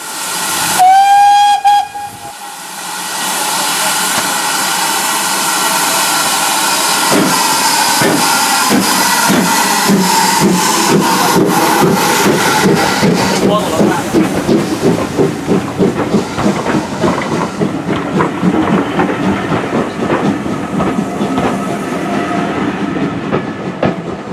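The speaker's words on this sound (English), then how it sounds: "I'm waiting for a train to depart, which is just right behind me there, which is the BR Standard Class 2 78018" BR Standard Class 2 steam locomotive 78018 departing Bewdley station on the Severn Valley Railway on a wet day, opening with a sharp whistle blast, then heavy rhythmic exhaust chuffs that quicken as the carriages roll past with clickety-clack wheel noise.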